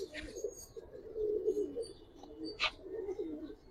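Giribaz pigeons, tournament-flying birds of an old-generation line, coo softly in a loft, a low murmuring call running throughout with a couple of brief sharper chirps.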